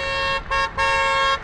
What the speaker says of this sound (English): cars on Stadium Drive honking in approval